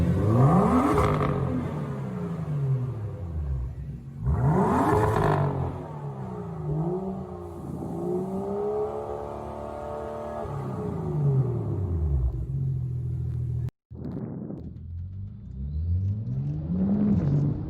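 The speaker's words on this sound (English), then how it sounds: "first drive, coming back from the shop after the Fabspeed Muffler delete has been installed" A BMW M2 with its muffler removed by a Fabspeed delete pulls through several loud rising revs that swell and fall away in repeated sweeps, with one brief cut near the end before another roaring climb.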